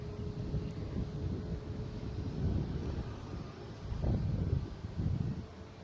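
A Southwest airliner taking off at Boston Logan International Airport, heard as a steady low rumble with a faint whine, rising in swells and mixed with wind noise, moderately distant.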